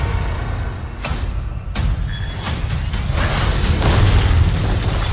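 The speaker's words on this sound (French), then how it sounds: "Oh, cette explosion." A cinematic explosion from a Captain America film booms with deep, sustained rumbling and a couple of sharp bursts, loud and dense with low-end roar throughout.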